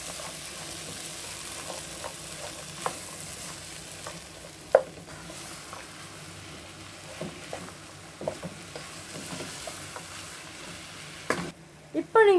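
Semiya being stirred with green peas in a frying pan, a steady low sizzle with occasional scraping clicks of a spoon against the pan, continuous and close with no talking.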